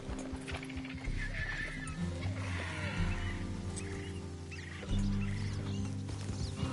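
A horse in the video game Red Dead Redemption 2 neighs and whinnies over steady galloping hoofbeats, loud and close, with game ambience and faint birds behind and a heavier surge of hooves near the end.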